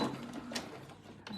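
A sewing machine stitches pieces of a flower quilt, a steady mechanical whir running close and fairly quiet for the whole moment, with no voices over it.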